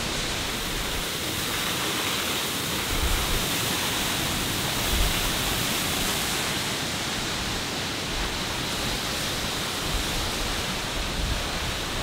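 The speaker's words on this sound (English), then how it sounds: "I have seen a lot of very impressive waterfalls, and this one still impressed me." Hanging Lake waterfall in Colorado roars loudly and steadily, a dense unbroken rush of falling water close by that fills the whole soundscape.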